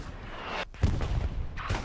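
Artillery fire during a video game match at Hurtgen Forest, a couple of heavy booming impacts with rumbling tails amid ongoing battle noise, moderately loud.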